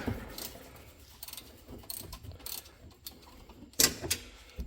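Ratchet with a 12 mm socket turning exhaust bolts on a Club Car DS golf cart, quiet irregular clicks and metallic rattles up close, with one sharper clack near the end.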